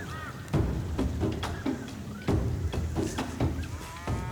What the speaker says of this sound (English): These cows are around 47 times the weight of Bomber and Harold